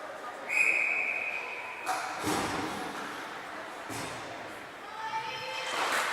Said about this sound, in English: That's a whistle with 3:39 to play